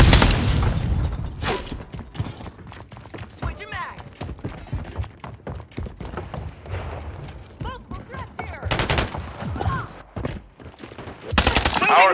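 Rapid bursts of automatic gunfire and sharp explosive booms in Call of Duty Modern Warfare 3 on PS5, loud and close, with a shouted voice cutting in between the volleys.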